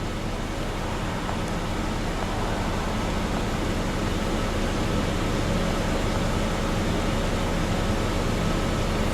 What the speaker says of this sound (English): Even though it seems this engine actually is running pretty smooth.